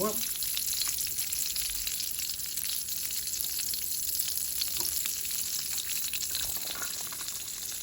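Vegetable oil and lard sizzling in a very hot pan, a steady crackling fry that runs continuously at close range with a few brief pops.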